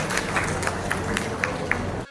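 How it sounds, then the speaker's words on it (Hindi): An audience applauds at an honours ceremony held at a community gathering of gemstone carving artists, giving a dense, continuous wash of clapping with a few sharper individual claps that stops abruptly near the end. "तालियां बजाते रहे साहब।"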